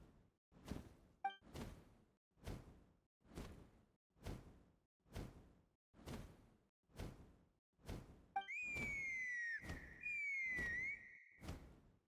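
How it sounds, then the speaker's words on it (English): A whistle in the video game Genshin Impact, two long sliding tones near the end over a repeating rhythmic whooshing that pulses steadily throughout, fairly faint overall. "That sounded like a whistle."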